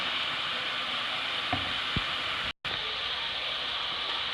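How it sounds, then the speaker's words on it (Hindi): Cinnamon pieces and bay leaves frying in oil with browning onions in a pan for Pakistani chicken biryani, a steady low sizzle with a couple of faint stirring knocks and a brief dropout. "और 1-2 पीसेस मैंने दालचीनी के डाले और तेज़पात डाल दिया। ये भी थोड़ा सा फ्राई हो जाए"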